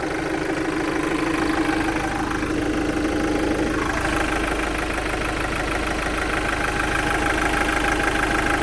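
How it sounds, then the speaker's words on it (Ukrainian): A Renault Master 4 dCi diesel van with a tail lift and 240,000 km on it idles steadily and quietly, a continuous even engine hum with no knocks or rattles and no one speaking. "Двигунчик працює ідеально. Тихесенько, без лисних шумів."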